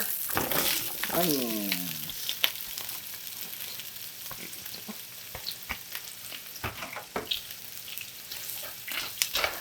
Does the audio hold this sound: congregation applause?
no